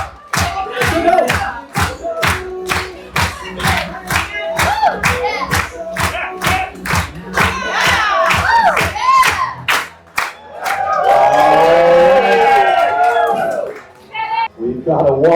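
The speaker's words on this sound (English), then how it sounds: "Come on, all right, clap. Make some noise." Trivia night crowd in a bar claps in a fast, steady rhythm, then breaks into loud cheering and whooping near the end, with voices over the noise.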